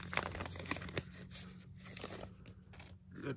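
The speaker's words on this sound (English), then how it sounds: "Using the scissors." Scissors cutting open a foil trading card pack, with crinkling, tearing and snipping sounds close up over a steady background hum, and no talk.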